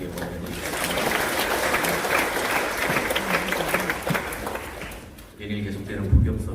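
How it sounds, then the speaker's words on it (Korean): Church congregation applauding after a service announcement, a sustained wash of clapping under a speaking voice, fading briefly before a final swell of clapping and voices near the end. "다시 한번 박수로 하나님께 보내드리겠습니다."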